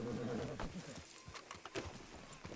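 Horse hooves clip-clop in an old-West setting, a few quiet, uneven hoof strikes under some low murmuring voices, with a faint whinny-like sound mixed in.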